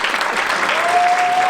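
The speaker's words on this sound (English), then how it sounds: "So this round of applause is for you as you all stand and be recognized." An audience at the Turnaround Achievement Awards 2019 ceremony breaks into loud, dense applause, many hands clapping close and continuously, with a brief tonal whistle sounding over it.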